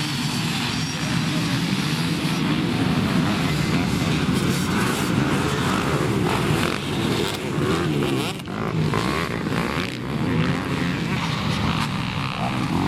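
Dirt bikes ride through a serpentine section of a hare scramble course near the scoring tent, a loud, continuous engine drone with varying revs and a voice talking over it.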